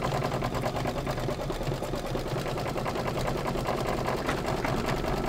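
An embroidery machine stitching a holiday gnome design onto a tea towel, a fast steady mechanical whirring and tapping, close and continuous, with no talking.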